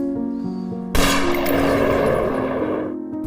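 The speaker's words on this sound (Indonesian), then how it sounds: "tiba-tiba Ranjep bangun lalu menembak Juni dan anaknya." A gunshot rings out in a dramatic Indian film scene, one sudden loud blast cutting over a sustained music bed and fading into a long reverberant tail.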